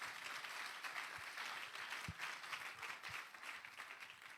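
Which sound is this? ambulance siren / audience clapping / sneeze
audience clapping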